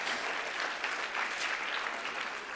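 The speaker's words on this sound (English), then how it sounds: "can we give a round of applause" A burst of steady applause from a crowd at a children's Christmas science lecture, dense clapping sustained throughout without pause.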